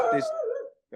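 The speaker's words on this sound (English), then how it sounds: "that's my dog." A dog barks and howls close by in a single drawn-out, wavering call, trailing off into a brief silence before a fresh sound begins.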